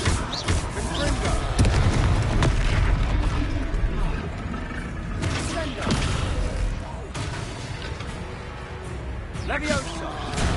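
Confringo fire spell bursts in Hogwarts Legacy combat, several loud booming blasts spaced a few seconds apart amid battle clatter, with someone talking over much of it.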